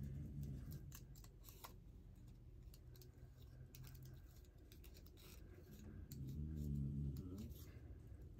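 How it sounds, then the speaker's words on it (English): Scissors snip paper being fussy-cut for a glue-book collage, a run of close, crisp clicks and snips scattered at an uneven pace over a quiet room. "The key component to fussy cutting is to move the paper, not your scissors."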